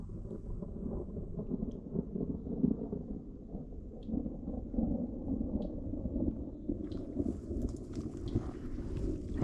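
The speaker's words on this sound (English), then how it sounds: "thunder lightning storm." Thunder rumbles through a South Florida thunderstorm by a roadside, a continuous heavy low roar that holds steady across the whole stretch, with faint higher crackles toward the end and no talking.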